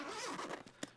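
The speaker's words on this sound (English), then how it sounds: "Whoops, those zippers are sticking." A zipper on a Star Frame BRICK cooler bag drawn in short, catching pulls, a close rasping run that stutters as it sticks, ending in a couple of sharp tugs.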